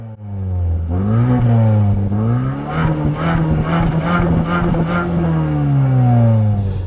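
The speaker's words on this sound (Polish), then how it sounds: "wciskając gaz na postoju samochód będzie wchodził na obroty, nie ma tutaj żadnego ogranicznika" A 2023 Mazda CX-5 with the 2.5-litre 194 hp petrol engine revs while standing still, its note climbing after a second and then holding high and steady before easing slightly, loud and close with no speech.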